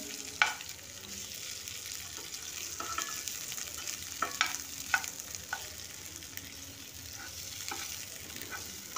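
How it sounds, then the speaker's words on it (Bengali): Stuffed bitter gourds (korola) frying in a pan with a coating of filling, giving a soft, steady sizzle with a few light clicks of a spatula turning them, quiet and close, with no voices. "2 মিনিট করে এগুলো ভেজে নেব।"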